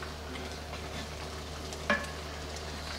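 Pancit Canton noodles cooking in a pan with sauce, stirred and mixed, produce a soft continuous sizzle and one sharp clink of a utensil against the pan near the end.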